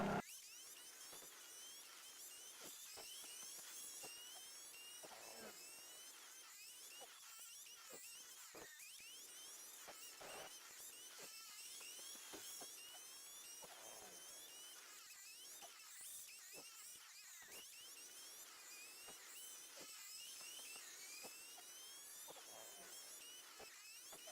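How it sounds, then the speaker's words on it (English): A sped-up Nissan GT-R racing car engine in a racing game whines continuously at a high pitch, buzzing like an angry insect, faint and unbroken throughout. "the GTR sounds like a really angry bee when it's sped up"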